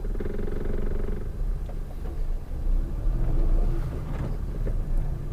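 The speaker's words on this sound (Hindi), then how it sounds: "अब गाड़ी फर्स्ट गियर में ही है, मैं क्लच रिलीज़ किया हूँ, गाड़ी आगे बढ़ने लग गई है।" A used car pulls away in first gear as the clutch is released, giving a low, steady engine rumble from inside the cabin with rough road noise and a slight rise in effort as it moves off.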